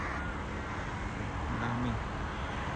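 Large crows caw faintly in the distance near a European truck stop, a few calls rising over a steady wash of roadway traffic noise.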